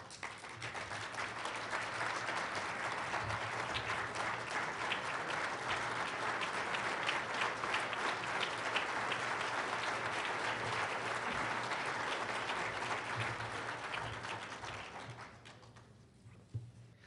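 Warm audience applause at a Jewish National Fund conference greeting Minister Amir Peretz, a steady dense clapping from a large crowd that holds for about fifteen seconds before fading out.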